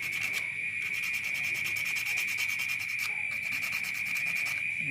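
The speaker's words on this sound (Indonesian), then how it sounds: "Amplas sampai halus." A handmade frog fishing lure body, built from cigarette filter material and Korean glue, is rubbed with sandpaper in a fast, continuous scratching rhythm, close up and steady for the whole stretch, with no talking.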